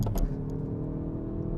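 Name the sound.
Hyundai i30 N hot hatch accelerating hard after launch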